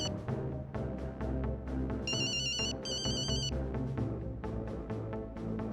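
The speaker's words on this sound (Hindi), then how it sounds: "तुम्हारा फोन बज रहा है।" A phone ringtone plays in two short electronic bursts over steady background music, fairly quiet and with no talking.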